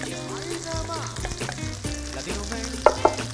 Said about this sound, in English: So we're gonna put our onions in here.